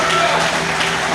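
Congregation applauding during a Portuguese-language church service, a dense steady wash of clapping filling the room with voices mixed in.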